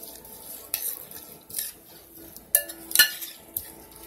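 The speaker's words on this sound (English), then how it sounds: "And you're going to go ahead and stir this right up." A spoon stirs a conch fritter sauce of white vinegar and cilantro in a bowl, making several sharp clinks and scrapes against the dish in an irregular rhythm, close and fairly clear.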